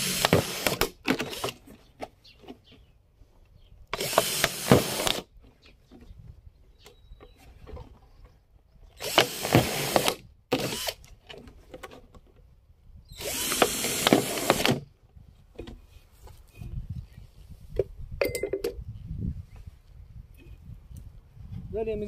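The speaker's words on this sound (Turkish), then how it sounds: "4 tane delik deleceğiz şişenin çevresine." A power drill boring holes around the body of a plastic bottle in several loud bursts of whirring separated by pauses, with someone talking quietly in between.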